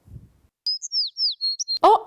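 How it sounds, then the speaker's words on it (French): A small bird gives a quick series of high, thin chirps and whistled notes after a moment of quiet, fairly close and clear, ending in a brief rough burst of sound. "Oh, un oiseau."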